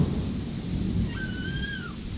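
Steady broadband rain noise at a village house fills the clip, with a low rumble underneath and a faint high chirp or whistle partway through.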